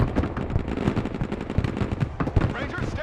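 Sustained machine-gun and rifle fire from troops in the real-time tactics game Broken Arrow rattles in dense, overlapping bursts, with scattered heavier shots under quieter voices.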